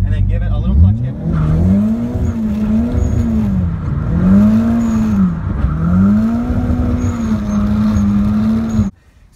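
A car drifts around a cone with a clutch kick: the engine revs rise and fall in steady waves, with tire noise, and a voice talks over it until the sound cuts off abruptly.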